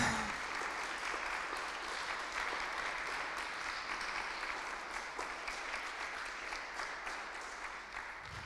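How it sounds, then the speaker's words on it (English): Warm audience applause after the introduction at a Christmas lecture, a steady wash of clapping throughout, moderately distant and gradually fading toward the end. "Thanks so much for clapping."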